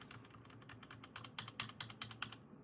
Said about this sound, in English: on my keyboard, I am hitting the delete key